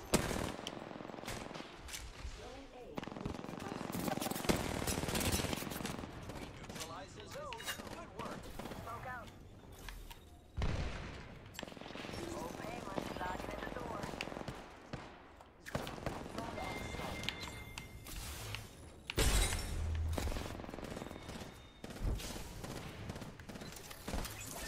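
R99 submachine gun fire in the video game Apex Legends comes in repeated rapid bursts over roughly 25 seconds, mixed with footsteps and game effects, with a voice talking at times.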